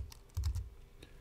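A few soft key presses on a Mac computer keyboard while entering a command in Terminal. The clicks are faint and close, sparse and irregular, with no speech.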